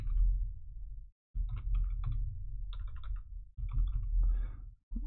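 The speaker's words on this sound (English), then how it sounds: "My typing doesn't improve with time." Fast, close typing on a computer keyboard while coding, irregular bursts of crisp key clicks separated by brief pauses over a low background hum.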